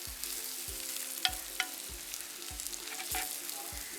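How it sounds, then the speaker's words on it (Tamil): Fenugreek seeds fry in leftover oil for a Jaffna-style curry, a soft continuous sizzle broken by regular low stirring scrapes about every half second, with a few sharp pops, no voices. "இனி இந்த மிச்ச எண்ணெய்க்குள்ள வெந்தயத்தை பொரிச்சோம்னா காணும்."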